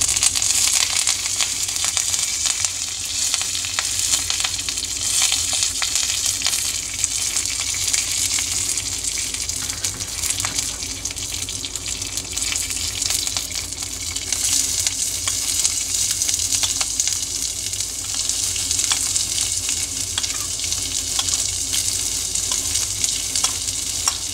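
Onions, green chilies and curry leaves sauté in hot oil for Karnataka-style chitranna, a steady close sizzle with occasional stirring scrapes running unbroken and fairly loud throughout, no talking.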